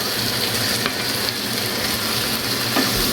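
Chicken hits onions frying in a pan and sizzles loudly and continuously up close, with faint stirring scrapes and no talking.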